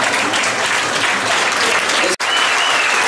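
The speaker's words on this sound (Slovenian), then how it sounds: "pa zdaj pa še malo ploskanje" An audience at a New Year's concert with firefighters in a fire station hall claps loudly and continuously, with a brief break near the end before the clapping resumes.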